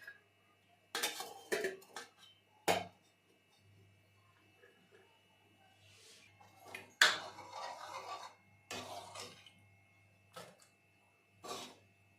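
Dal and rice served onto a plate at home, heard as scattered clinks and scrapes of a spoon against dishes, with quiet gaps between the short sharp knocks and a steady low hum underneath.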